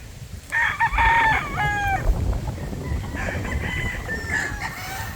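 A brood cock rooster crows loudly nearby, giving one long, strained cock-a-doodle-doo followed by another crow and some clucking, with other fowl faintly in the background.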